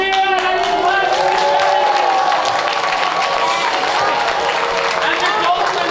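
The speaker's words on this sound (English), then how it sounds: "And the townsfolk who were all watching this take place cheered and clapped." Townsfolk in a stage musical cheer and clap in a dense, steady wash of applause and crowd voices that stays loud and close throughout.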